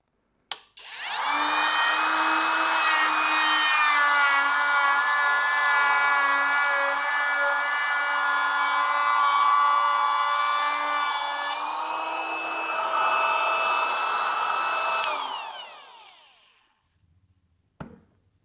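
A Kobalt 24V cordless router set to speed 4 cuts white pine, spinning up to a loud, sustained high whine that holds for about fourteen seconds, dips slightly under load, then winds down, followed by a brief clack.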